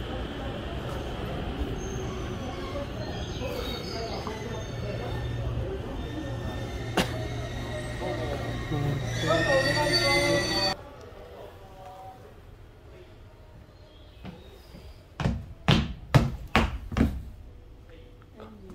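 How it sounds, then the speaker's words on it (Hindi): Inside a moving, empty passenger train in India: a constant low rumble with a louder rattling stretch, then quieter running broken by several sharp clanks near the end, while a person talks. "खाली ट्रेन का अपना अलग ही मजा है."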